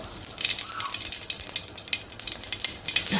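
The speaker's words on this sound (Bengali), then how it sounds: "আমরা তুলে দেব ডালটা যে হালকা একটু লাল লাল করে ভেজে নিব" Masoor dal and cumin seeds frying in a pan, a continuous crackling sizzle with scattered sharp pops and a brief stirring scrape, close and fairly loud.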